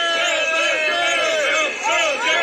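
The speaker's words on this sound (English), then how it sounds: "The fans are out cheering on the Belgian squads and other nations here at the side of the road." Roadside fans cheer at a cycling world championship with Belgian and other national supporters, a dense continuous crowd roar with rising shouts and whistles, loud and close throughout.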